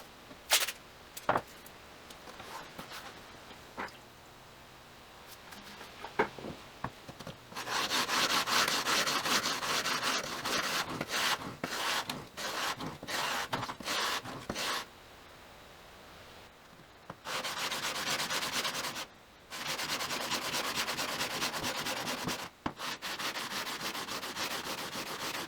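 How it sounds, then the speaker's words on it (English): A forged timber framing chisel sharpened on 220 grit sandpaper taped over glass with a sharpening guide: quiet scattered scrapes, then long runs of steady rhythmic rubbing strokes, close with brief pauses. "I've got a piece of 220 grit sandpaper, and I'm going to be taping it to this piece of glass so that it stays flat."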